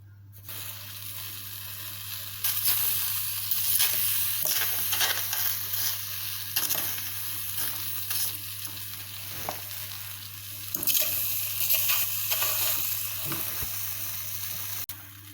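Plantain sizzles steadily in a hot pan with no oil, a continuous crackling fry with small pops and stirring scrapes throughout, close and moderately loud with no talking.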